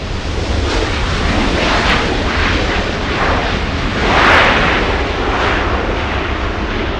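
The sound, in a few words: airplane landing on runway 24 right at LAX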